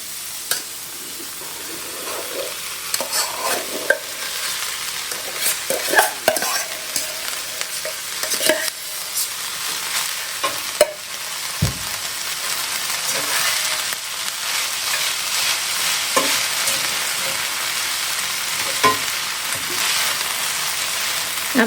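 Rice stir-frying in a pan for chicken fried rice, a steady crackling sizzle broken by scraping stirs and clinks of a utensil, close and continuous for about twenty seconds, with no talking.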